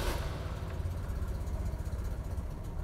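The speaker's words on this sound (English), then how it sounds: "Nice little three-cylinder rumble. It idles so well." Maruti 800 SS80 three-cylinder petrol engine on a cold start with the choke pulled, settling into a steady low idle rumble, close and continuous with no talk.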